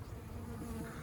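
Honey bees in a small nuc hive during a spring inspection, a steady close droning buzz of many insects, faint and continuous with no voices.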